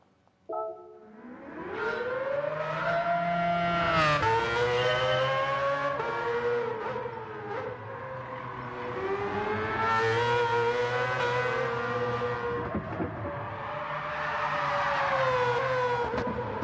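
Car drifting in Gran Turismo 7, a loud sustained engine whine rising and falling with revs across the whole stretch, with harmonic tire and engine tones and no talking.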